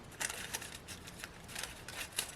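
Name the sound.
cutting away excess paper for artist trading cards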